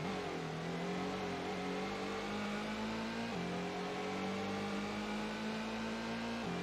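A car in Gran Turismo 1 on SS Route 11 accelerates with a steady engine drone that climbs in pitch through two gear stages, dropping once at a shift, loud and continuous with no talk.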